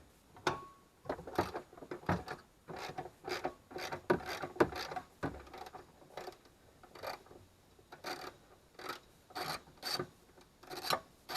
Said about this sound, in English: I got a socket with an extension.